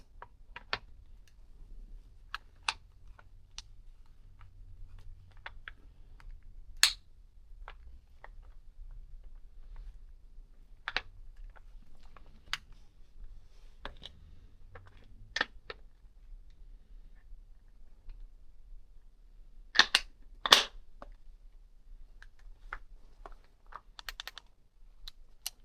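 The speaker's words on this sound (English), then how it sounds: "I'm quickly just going to put the gun back together" Sparse clicks, taps and metallic snaps as a Noveske rifle is reassembled by hand, close and quiet with pauses between each sound.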